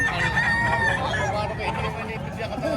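Roosters and chickens at a poultry market in Padre Garcia, Batangas crow and cluck continuously amid a busy hubbub of crowd chatter, with people talking nearby.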